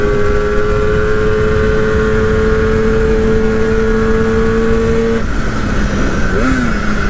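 A Yamaha RD 400 motorcycle engine drones steadily and close at high revs, then the pitch drops and swings back up in a brief rev near the end.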